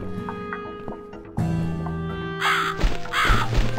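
Crow cawing in the video game The Cat Lady, a few harsh, rasping caws in the second half of the clip over a low, steady game soundscape, with no one talking.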